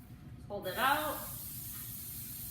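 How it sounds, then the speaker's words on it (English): Cooking spray hisses from an aerosol can onto a baking pan for banana chocolate chip bars, a steady, close, bright spray lasting about two seconds that begins just as a voice speaks briefly over it. "so we're going to spray that with our baking spray."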